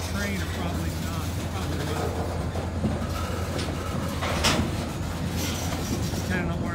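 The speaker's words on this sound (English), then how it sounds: "Got that one locomotive up there at the head." A freight train, one locomotive hauling covered hopper cars, rumbles past with steady low rail noise, wheels clacking over joints and a brief metallic squeal midway, loud and close throughout.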